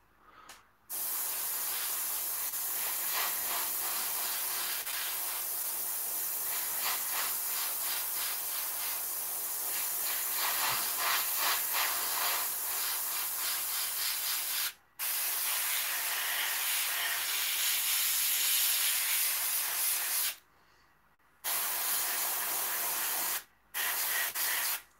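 A small air compressor runs continuously in a workshop, giving a steady, loud broadband hiss with brief cut-outs near the end, alone with no talk.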